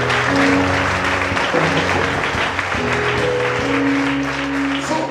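A church congregation at a worship service claps loudly and continuously, steady applause blended with sustained organ or keyboard tones underneath.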